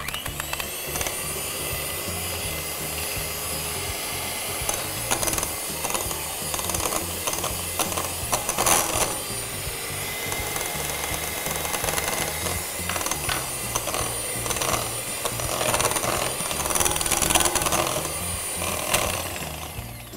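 Butter, sugar and eggs are beaten together for a red velvet cake batter, a steady mechanical whirring with rattling bursts that runs for the whole twenty seconds with no talk over it.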